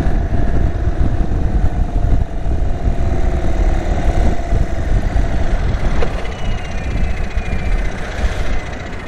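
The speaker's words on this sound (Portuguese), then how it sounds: "Pois é, meus amigos, temos aqui uma moto." A 2023 Indian Sport Chief motorcycle with a modified exhaust idles close by, a loud, deep, steady engine rumble that holds without revving.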